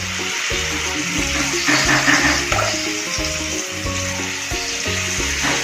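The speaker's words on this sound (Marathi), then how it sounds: "आपण जशी भजी बनवतो त्या पद्धतीनंच आपल्याला हे छोटे छोटे असे वडे तेलामध्ये सोडायचे आहेत।" Small urad dal vadas frying in hot oil, a steady loud crackling sizzle with bubbling pulses throughout, close and continuous with no talk.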